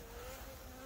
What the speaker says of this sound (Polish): a tu dalej są pszczoły, nie będę ich wyjmował